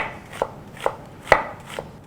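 A knife slicing an onion on a cutting board, four distinct chopping thuds at an even, unhurried rhythm, close and clear with no talk.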